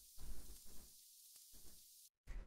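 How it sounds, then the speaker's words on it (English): Vinyl noise crackle sample for dub techno: faint, steady hiss with soft low thumps and crackles, cutting out briefly near the end before resuming. "the last sound that we have here is just this vinyl noise"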